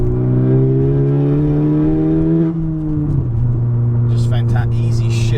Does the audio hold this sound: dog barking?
no